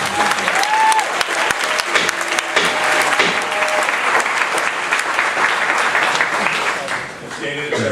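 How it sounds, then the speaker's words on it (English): An audience in a legislative joint committee hearing on homeland security breaks into loud, sustained applause that fills the room for several seconds before easing off at the end. "applause only stretches out and pushes out the time for other people that need to testify"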